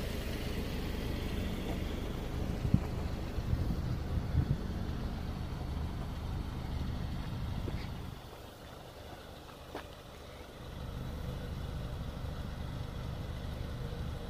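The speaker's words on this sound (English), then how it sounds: "Listen to that turbo." Turbocharged engine of a 2018 Alfa Romeo Stelvio Sport running as a steady low rumble throughout, easing briefly around the middle before picking back up, with no talk over it.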